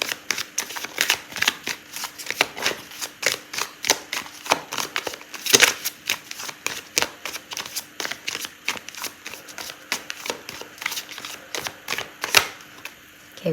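Tarot cards are shuffled continuously, with crisp, rapid riffling and flicking close by, irregular and steady throughout with no voice heard.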